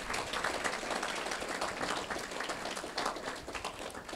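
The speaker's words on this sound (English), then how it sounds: "Let's give his family a round of applause for this gathering." A crowd at a memorial gathering applauding, a dense wash of many hands clapping at moderate distance, steady for several seconds without talk.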